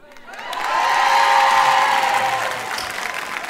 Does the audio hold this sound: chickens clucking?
no